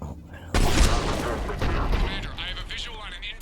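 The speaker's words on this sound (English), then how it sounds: "The cannon fire is clearing the way." Heavy cannon fire in the Mass Effect 3 battle on Tuchanka, a sudden loud blast followed by rolling booms and rumbling echoes, with battle noise continuing behind.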